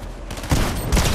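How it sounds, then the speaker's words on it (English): Gunfire in the Fortnite video game: two loud, close bursts of rapid shots, the second following the first about half a second later. "Somebody's taking shots."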